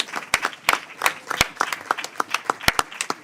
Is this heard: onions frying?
no